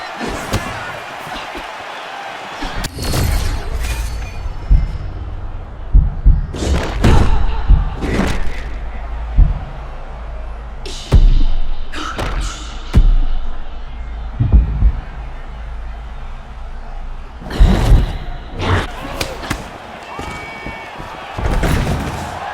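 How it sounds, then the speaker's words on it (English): Heavy thuds and slams from fighters grappling in EA Sports UFC 6: several loud, scattered impacts and thumps spread across the clip with a low hum between them, and a commentator's voice at times. "Fighter lands a takedown, well done"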